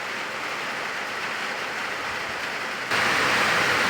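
Heavy rain buckets down at a riverside campsite with a small blue tent in New South Wales, a dense unbroken hiss that suddenly grows louder and brighter near the end.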